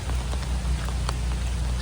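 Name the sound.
heavy steady rain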